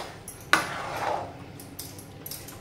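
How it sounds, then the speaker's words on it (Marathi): Chana dal puran filling stirred in a pan over low heat, with one sharp metallic scrape or clink of the spoon against the pan followed by softer scraping, close and moderately quiet. "मंद आचेवर बघा चांगली अशी एकसारखी हलवत राहायची"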